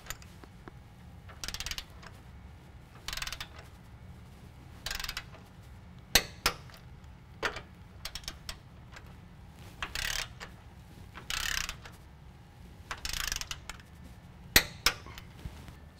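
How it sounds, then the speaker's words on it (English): Ratchet wrench tightening sway bar link bolts to torque on a lifted 2014-2017 Chevy/GMC 1500 4WD pickup, short bursts of rapid ratcheting clicks separated by quiet pauses, with occasional sharp metallic clanks, close and no voices. "We're going to tighten these down to 45 foot-pounds."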